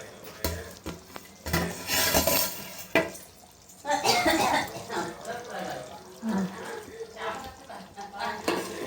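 Water splashes into a hot pot of fish curry amid sizzling and utensil clatter, with a voice speaking intermittently nearby.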